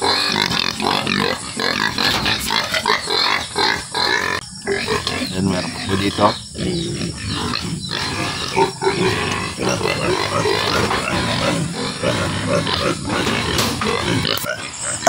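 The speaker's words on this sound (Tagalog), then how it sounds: "Yan po ang maang-aalaga kong baboy." Pigs on a backyard farm grunt and oink repeatedly at close range, mixed with a person talking in the foreground.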